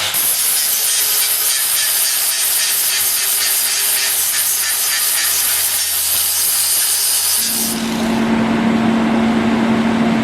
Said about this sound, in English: Made it with a grinder.